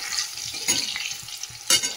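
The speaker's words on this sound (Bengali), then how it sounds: "দেখো বন্ধুরা, কুমড়োটা তো ভেজে নিলাম, এই যে লাল লাল করে একদম ভেজে নিয়েছি।" Pumpkin pieces fry in hot oil in a pan, giving a steady, bright sizzle with two sharper bursts of spattering as the pieces are stirred or turned, close and loud, with no talking.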